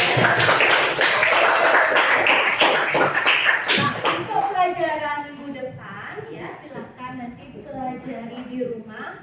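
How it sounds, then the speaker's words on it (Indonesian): A school class claps together, a burst of quick scattered hand claps that fades as a teacher's voice takes over and keeps talking. "Terus ya tepuk tangan dulu untuk semua."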